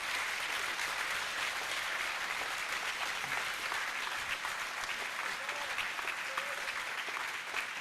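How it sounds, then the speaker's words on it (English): At a VEX Robotics national competition event, a crowd gives a sustained round of applause for the volunteers, with steady, dense clapping filling the large venue for about eight seconds. "round of applause for the volunteers"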